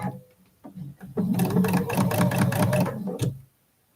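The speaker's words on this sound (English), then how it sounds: "I'm going straight to the sewing machine" A sewing machine stitches a quilt block seam in a rapid, steady mechanical chatter for about two seconds, preceded by a few short starts and ending with a thunk, heard close with no voices over it.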